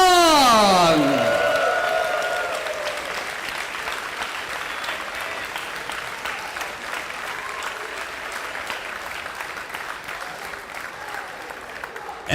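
Sustained applause from a crowd for the table tennis medalists at the US Open finals at Ontario Convention Center, dense and steady after an opening announcement voice, fading slightly but continuing throughout.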